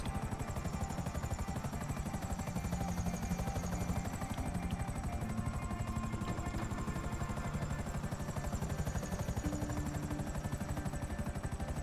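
A video game helicopter's rotor thumps steadily and loudly with a constant high engine whine throughout, with no talking over it.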